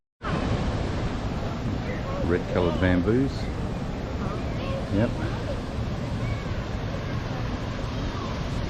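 Water fountain splashing in Kuala Lumpur, a steady rushing hiss running throughout under close conversation.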